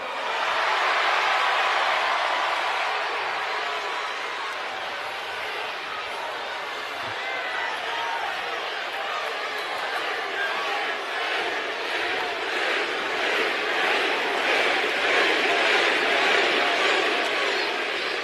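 A large wrestling arena crowd at a WWE show chants in unison, a dense, loud roar of many voices that holds steady for the whole stretch, with a rhythmic pulse building toward the end.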